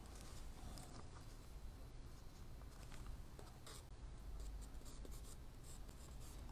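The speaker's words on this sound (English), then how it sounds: "Notice how I'm holding my pencil in relaxed fashion. I'm still sketching." A pencil scratches across paper in quick, soft strokes while a head is roughed in with large shapes, close and quiet, with no voices.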